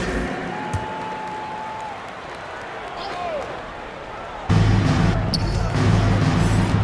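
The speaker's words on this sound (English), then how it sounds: "Round of applause for your Lakers youth dance team." Arena crowd noise and applause at a Lakers basketball game in the video game NBA 2K23, with squeaking shoes and a bouncing ball, growing louder and denser partway through over a steady low hum.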